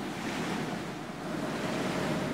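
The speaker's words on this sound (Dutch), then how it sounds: "op een nacht, brak er een hevige storm los" Heavy surf and gusting wind of a violent storm at sea roar in a steady, dense wash, loud and continuous with no voices.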